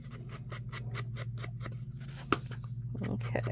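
Scissors snip paper for book page tag tucks in a steady run of about a dozen quick, close cuts, with a low hum underneath and one sharper click near the end.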